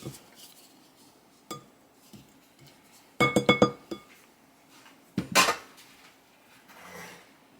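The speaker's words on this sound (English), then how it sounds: "I'm just going to take my spatula and just go around" A spatula scrapes and clinks around a mixing bowl of butter tart batter, in scattered short bursts with two louder scraping runs and quiet gaps between.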